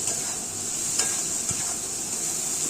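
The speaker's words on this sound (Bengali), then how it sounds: "এখন ভালো করে নেড়ে চেড়ে মানে ভেজে নেব" Onions fry for macaroni while being stirred, giving a steady close sizzle and hiss with a couple of faint utensil knocks.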